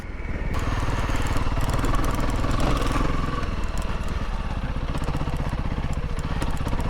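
A Honda CRF 300L motorcycle rides off-road, its engine a loud, steady, close drone that runs through the whole stretch without any talk.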